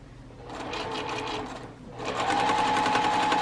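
A sewing machine stitching chain-pieced quilt patches runs in two close, steady whirring bursts separated by a brief pause, with no talking.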